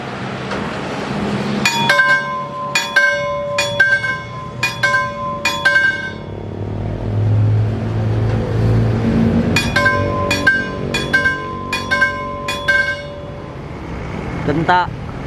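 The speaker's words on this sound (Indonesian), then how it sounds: "Genta sudah berbunyi, genta PJL, berarti kereta api Argo Wilis ada di belakang nih ya." An Indonesian railway level crossing warning bell rings in rapid bursts of bright metallic clangs, two sets separated by a pause, loud and fairly near, with someone talking and outdoor traffic noise around it.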